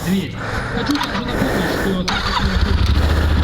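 A Yamaha Super Tenere 1200 motorcycle engine turns over and settles into a deep, rumbling idle. It is close and loud, with wind noise and people talking over it.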